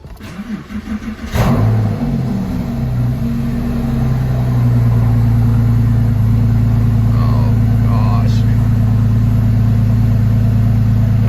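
A high-mileage Porsche 911 engine, unstarted for three months, cranks and catches with a sharp burst, then settles into a loud, steady rumble with a few revs rising above the idle.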